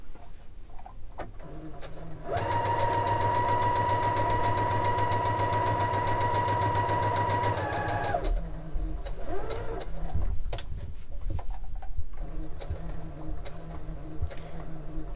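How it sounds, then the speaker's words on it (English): A sewing machine stitches all the way around a cloth doll, running in one steady, loud whir for about six seconds before stopping, followed by quieter handling clicks and fabric rustle. "Now we're going to sew all the way around."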